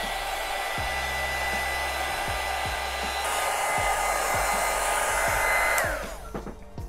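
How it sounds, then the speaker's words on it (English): A heat dryer blows with a steady whirring hum, close and continuous for several seconds, then cuts off abruptly near the end. "I'm just gonna take my craft dryer and dry this really quickly."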